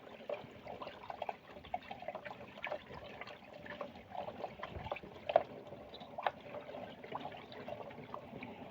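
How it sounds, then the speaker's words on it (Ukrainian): Water pours and trickles into a garden sprayer's pesticide mix, mixed for treating strawberries, a steady running liquid at close range with no talk over it. "Зараз трохи заляємо водички."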